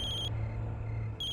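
A telephone rings with an incoming call, a steady electronic tone that sounds, pauses briefly, then resumes over a low background hum.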